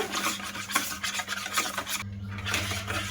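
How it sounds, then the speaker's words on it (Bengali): Sour yogurt and sugar are beaten together in a bowl for bakery-style biscuits, making a rhythmic, close scraping and rubbing of a spoon against the bowl with repeated quick strokes and no talk. "টক দই আর চিনিটা ভালো করে মিশিয়ে নেব।"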